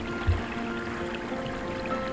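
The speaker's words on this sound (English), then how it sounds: "Pot Rough Creek, flows down through" Creek water runs in a steady, soft rush outdoors on a winter hike as it flows down toward a sinkhole, with one brief low knock near the start.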